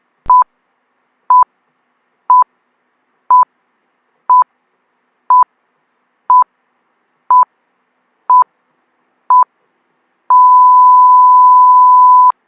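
A countdown timer ticks off ten evenly spaced, clean electronic beeps about a second apart, then ends in one long sustained tone; loud and alone.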